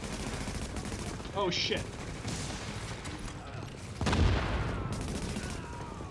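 Gunfire from The Division, with blind fire sustained throughout under game noise, louder bursts near the middle and a heavy impact late on, while someone speaks briefly.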